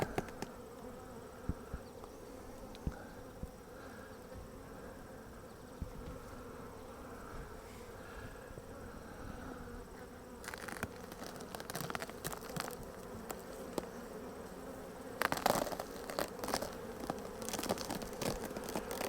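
Honey bees buzz steadily around an opened hive being checked for small hive beetles, a dense close drone, with crinkling and handling noises joining partway through.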